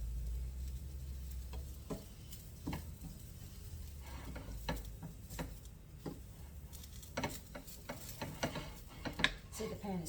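A hot pan toasting food, a faint, soft sizzle and crackle with scattered small clicks and scrapes from stirring, quiet and close, with a voice talking softly in places.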